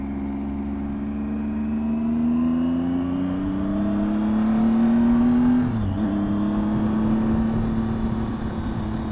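Motorcycle engine droning steadily while riding, rising slightly in pitch and then dipping briefly before settling back, with constant wind and road noise throughout; no talking.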